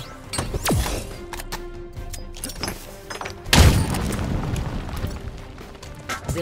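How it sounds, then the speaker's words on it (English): Drop wall equipment deploying in Halo Infinite, heard as a sharp impact near the start and a heavier booming thud midway that rings out briefly, with scattered game effects between, close and loud. "Drop wall deployed"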